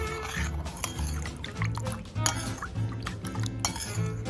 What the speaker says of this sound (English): We mix it well again.